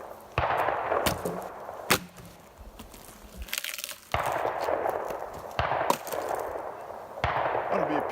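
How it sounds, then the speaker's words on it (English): Gunshots near a campsite in Colorado's Hayman Fire Restoration Area, a series of sharp cracks at irregular intervals, each followed by a rolling echo through the open landscape. "There's the guns I was talking about."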